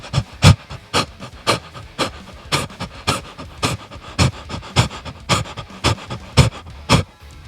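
Rhythmic singing breathing drill, a loud close series of sharp panting breaths, big gasps alternating with quicker little ones in a steady pulse, no talking over it.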